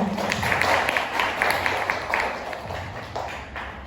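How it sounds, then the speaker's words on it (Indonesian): An audience at an Indonesian school or group event claps for the MC, a loose, uneven patter of hands with a few sharper individual claps, fairly close and moderately loud. "Mari kita beri tepuk tangan untuk MC kita hari ini."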